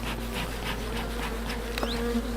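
Honeybees from an opened hive with a frame set on the ground drone in a loud, steady buzz, with individual bees swelling past close by and no talking.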